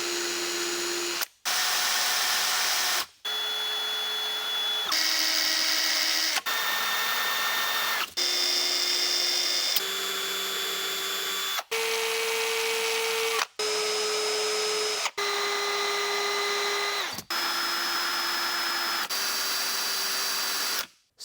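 Cordless right-angle drills from Snap-on, Metabo HPT, DeWalt and Kobalt run one after another in about ten steady, whining bursts of motor noise, each cut off abruptly before the next starts, loud and close with no talking.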